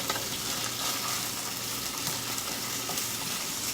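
Breaded kung pao chicken, just flipped to show its golden brown crispy coating, fries in a pan with a loud, dense, continuous sizzle and a little stirring noise, alone and close.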